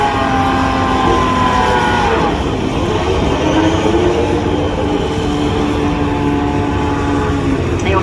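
Porsche 962C Le Mans race cars pass one after another at Dunlop Curve in a Le Mans Classic parade, their loud, droning engines rising and falling steadily with a faint commentary voice underneath.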